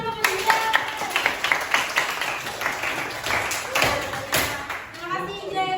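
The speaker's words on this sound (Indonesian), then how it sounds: "Nah, tepuk tangan dulu Bunda." Children in a school classroom clap together during a teaching practice lesson, a run of brisk hand claps with kids' voices chattering over and around them.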